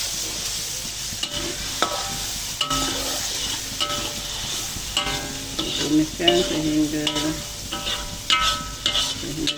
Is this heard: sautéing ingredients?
yes